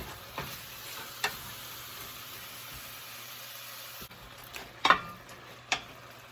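Sausage meat browns in a pan for a beef bolognese, giving a soft, steady sizzle with a few sharp utensil clicks and scrapes scattered through.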